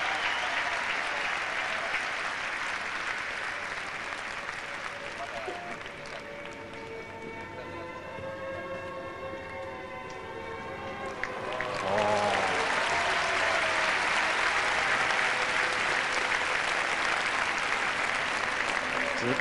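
Sustained audience applause fills an arena at a 1992 Albertville Olympics figure skating exhibition as Marina Klimova and Sergei Ponomarenko return to the ice. The clapping is broad and loud, eases slightly in the middle while music plays beneath it, then swells again.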